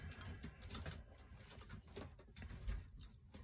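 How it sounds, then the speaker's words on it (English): Pigeons coo and other birds call outdoors, soft and fairly distant over a continuous rustling background, with faint scattered chirps and no talking. "More birds."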